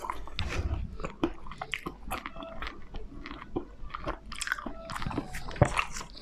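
Close, wet chewing and crunching of Belgian peanut butter crunch ice cream, with repeated bites and soft mouth sounds and no talking.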